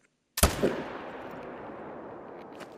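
A single sharp gunshot from a video game cracks out after a brief silence, followed by a long, fading echoing tail.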